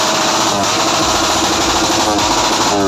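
Suzuki Raider 150 hubless motorcycle at a loudest-pipe contest, engine revving hard through a loud exhaust, a harsh buzzing roar held steady and close for the whole stretch.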